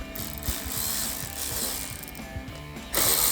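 A hand ratchet fitted with an 8mm socket clicks steadily and close up while loosening a clamp at the air intake of a 2008-2012 Dodge Challenger V8, then ends in a louder burst of clicking.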